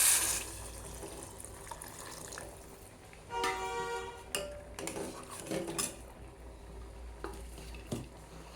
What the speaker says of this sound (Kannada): ಆಮೇಲೆ ನೀರು ಹಾಕ್ಕೋಬೇಕು.